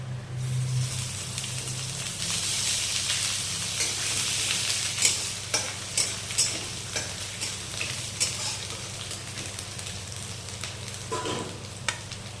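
Grated ginger sizzles loudly in a frying pan of hot oil during the making of an egg and potato curry, with a bright hissing fry and then a run of rhythmic spatula scrapes and stirs, with no voices.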